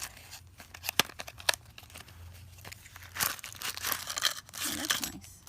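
Plastic bag being torn open while unboxing an 18-in-1 snowflake multi-tool, with sharp crinkling rips and crackles in short bursts, close and fairly loud, no talking.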